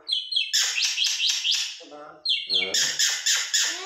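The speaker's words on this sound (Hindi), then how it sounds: "आज हमारे तोता और मैना आप लोगों के साथ बात कर रहे हैं" A pet parrot and myna call in quick bursts of sharp, bright chirps and squawks, close by, in two rapid clusters separated by a brief pause, with a low voice murmuring between them.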